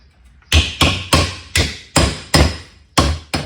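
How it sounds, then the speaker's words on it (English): A hammer with a large flat face pounds the metal ribs of a raised garden bed flat, eight loud, ringing strikes at a steady, even rhythm, close up with no talking. "I'll take the hammer and flatten the ribs out some where they'll lay down better."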